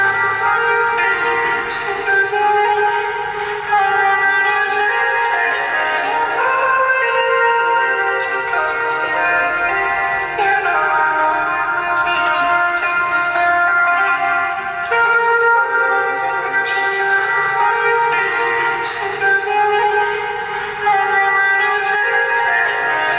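A vocal mix played back through studio monitors with heavy reverb, the sustained, washed-out voice and long echo tails continuing steadily throughout without any talking.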